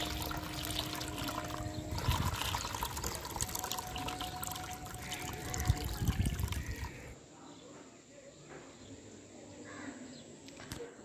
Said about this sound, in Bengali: এবারে আমি গামলাটা পুরো জলে ভর্তি করে নেব।